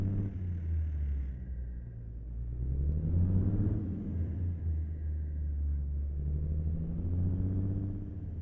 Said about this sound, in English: Truck engine might be still a little too loud.